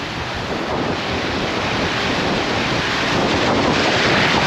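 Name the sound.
wind and waves by a small boat at sea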